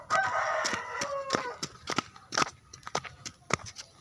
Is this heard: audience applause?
no